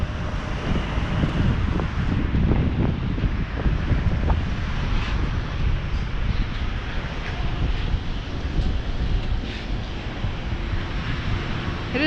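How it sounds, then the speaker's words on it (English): Strong wind buffeting the microphone outdoors on Yonge Street, a steady low rumbling roar throughout with no speech. "It is fairly windy out today."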